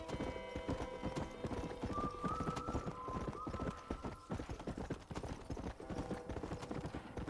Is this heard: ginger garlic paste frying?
no